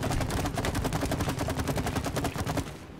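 Steady rapid-fire shooting in the co-op game It Takes Two, an evenly spaced stream of sharp shots running for about three seconds before trailing off at the end, with no voices over it.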